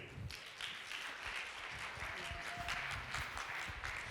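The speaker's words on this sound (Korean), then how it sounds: "박수 부탁드리겠습니다." An audience at a Korean college presentation event applauds, steady clapping from many hands at a moderate distance, without any talking.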